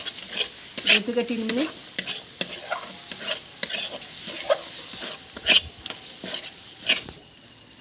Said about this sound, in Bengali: দিয়ে এটা ভালোভাবে নাড়তে হবে